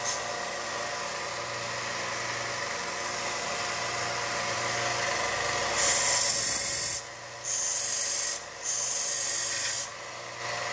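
A belt sander grinds a stone inlay with a harsh, steady rasp over a constant motor whine. Near the end the grinding cuts in and out in a few short pauses. It is loud and close, and no one speaks.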